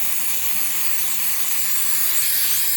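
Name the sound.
throttle body cleaner sprayed onto microfiber cloth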